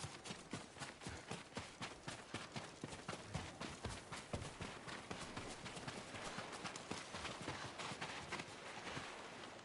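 Horse hooves clip-clop in a steady, rapid rhythm in the video game Ghost of Tsushima, loud and close throughout with a dense run of sharp strikes and no talking.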